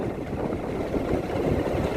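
A motorbike rides along a village road in Dangpur, Bardiya, with a faint, steady low engine rumble blended with wind and no talk.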